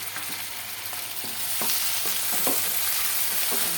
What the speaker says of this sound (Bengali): পেঁয়াজের সাথে চিংড়ি মাছটা ভাজি হয়ে যাক